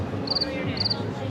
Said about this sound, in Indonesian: Sampai bunyi jangkrik.